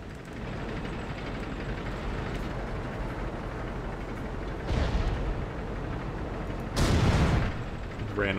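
Tank cannon fire in the World of Tanks video game: two heavy booming shots over a constant engine rumble, the second louder and longer.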